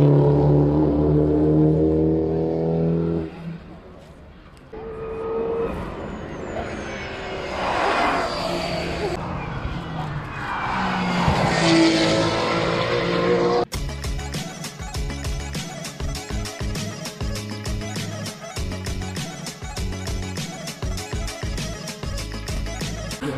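Race car engines at the Nürburgring Nordschleife near Breidscheid during a 2022 NLS race, heard from trackside as cars roar past with rising and falling pitch before the sound abruptly shifts to a busier, rhythmic texture.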